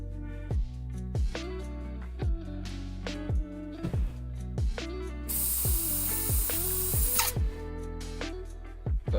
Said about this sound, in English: We'll just spray the rest of that in my little pot